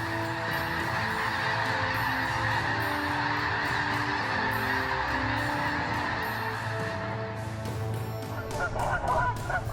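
A flock of Canada geese honks continuously and loudly, with many overlapping calls forming a dense, steady chorus. A few sharper honks stand out near the end.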